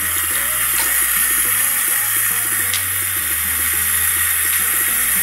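Water running from a tap to rinse soap off a makeup brush over a silicone wash pad, a steady close hiss of flowing water with faint splashes and clicks.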